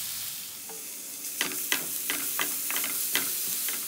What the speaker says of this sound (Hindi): प्याज हमारे हल्के ब्राउन हो चुके हैं, अब कद्दूकस किया हुआ आलू शामिल कर देंगे